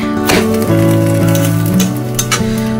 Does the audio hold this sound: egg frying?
yes